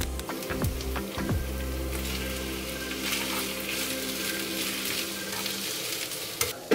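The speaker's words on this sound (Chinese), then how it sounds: "洋葱跟肉炒差不多之后呢，就可以把面加进去了" Onion and meat stir-fried with udon noodles in a pan, a steady close sizzle with a few clattering stirs near the start and scattered spatula scrapes, no talking.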